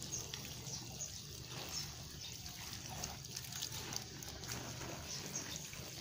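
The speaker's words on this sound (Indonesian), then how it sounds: "Nah, ini cukup kita siram ke tanaman." Coffee-grounds water is poured onto seedlings in a plant nursery, a quiet, soft trickle and splash at low level.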